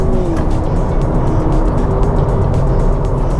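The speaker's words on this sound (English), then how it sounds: "Accelerating into the corner." A Honda Civic Hybrid e:HEV accelerating hard at speed, heard from inside as a loud, steady roar of engine and road noise with a slowly rising whine, no voices.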